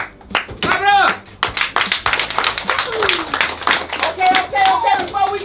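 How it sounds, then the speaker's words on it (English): A group clapping hands on command in a classroom-style summer school scene, uneven bursts of claps mixed with talking, shouts and laughter from several people. "Come on. Clap it up."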